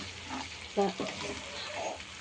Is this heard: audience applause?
no